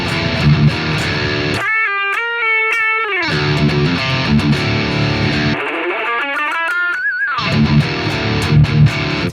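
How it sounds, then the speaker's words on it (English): Nutcracker high-gain amp with its Supercut feature engaged, giving a thin, lo-fi filtered guitar tone that alternates with full, heavily distorted riffing and pitch-bending licks, loud and continuous with no talking. "show you a feature called Supercut, this makes your tone really, really lo-fi"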